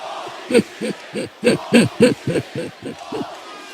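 A vocal wrestling crowd in a Chicago arena chants in loud, evenly spaced rhythmic shouts, about a dozen beats in a row, over a steady murmur of the audience.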